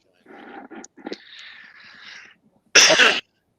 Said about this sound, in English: I didn't think I coughed all that much